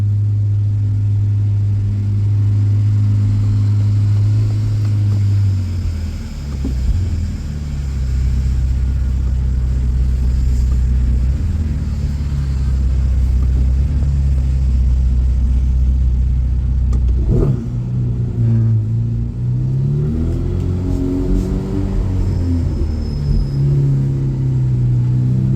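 Ferrari sports car engine heard from inside during a ride, a loud sustained drone that shifts pitch through gear changes and climbs in revving bursts toward the end, with no talking.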